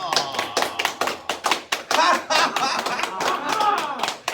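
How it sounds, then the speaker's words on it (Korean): An audience at a pelvic-correction health class claps hands in a brisk run of sharp, close claps, with a voice talking over the clapping. "잘하실 수 있으면 박수 쳐보세요"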